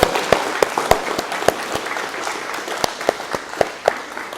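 A congregation applauds during a Spanish-language Catholic Mass at Saint Philip Benizi church, a dense wash of clapping with distinct sharp individual claps ringing out near and far throughout.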